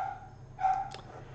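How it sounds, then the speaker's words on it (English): A small dog gives a couple of short, sharp yips, faint and somewhat distant against a quiet indoor background. "my dog's gonna be barking a lot for the next couple minutes"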